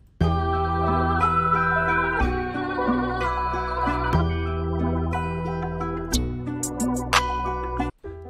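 A synth melody built in FL Studio plays alone, a bouncy layered lead over a steady low bass, looping phrases at moderate loudness before cutting off abruptly near the end.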